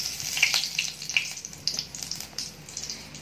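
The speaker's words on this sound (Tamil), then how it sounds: "இப்போ சோம்பு பட்டையெல்லாம் நல்லா பொரிஞ்சிருச்சு" Whole spices, fennel seeds, cinnamon sticks, cloves and star anise, crackle and sizzle in hot oil for a biryani, with a steady close frying hiss and scattered sharp pops throughout.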